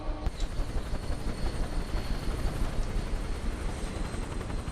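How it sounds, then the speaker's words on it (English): Steady, close UH-1H Huey helicopter engine roar in a flight simulator game, a broad whooshing drone as it winds down, holding level without much change over a few seconds. "The lovely sounds of the Huey. As it all just comes to a graceful rest."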